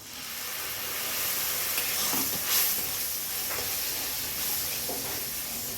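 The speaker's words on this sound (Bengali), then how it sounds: "টমেটোগুলোও ভাজা হয়ে গেছে এবারে দিয়ে দিচ্ছি আদা আর রসুন বাটা" Ginger and garlic paste frying with tomatoes in hot oil, a steady close sizzle with a few soft stirring scrapes, no talking.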